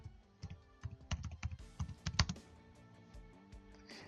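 Keys clatter on a computer keyboard as a search is typed into presentation software, an irregular run of close, crisp clicks in quick bursts that thins to a few scattered taps near the end.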